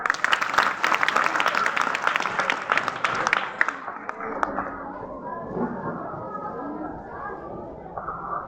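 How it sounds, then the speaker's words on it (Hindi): A school audience applauds a student play, dense clapping for a few seconds that then fades into murmuring and voices. "जोरदार तालियां।"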